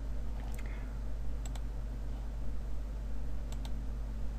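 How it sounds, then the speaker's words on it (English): Computer mouse clicks at a desk: a few crisp, close double clicks spaced about a second apart over a steady electrical hum, with no talking. "we click down here"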